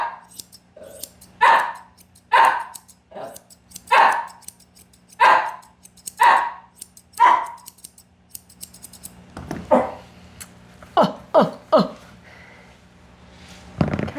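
A Shih Tzu named Charlie barks close by in a loud, regular series of about seven sharp barks, then a quicker, messier burst of barks after a short pause.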